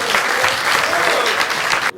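Audience applause fills the room, a steady, loud wash of clapping that cuts off abruptly near the end.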